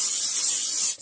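Cooking spray is misted over the top of a bread dough ball sitting in a bowl, a single close, continuous hiss lasting about a second before cutting off abruptly.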